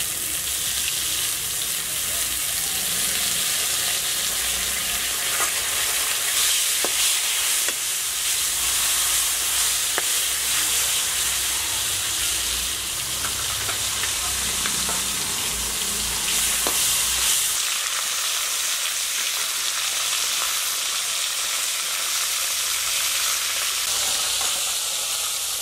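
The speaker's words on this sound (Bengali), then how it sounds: "পটলগুলো আমি যখন ভাজবো তখন একটু লবণ হলুদ দিয়ে নেব।" Pointed gourd pieces frying in oil with salt and turmeric, a dense continuous sizzle and hiss heard close up, with occasional stirring knocks and a slight easing toward the end.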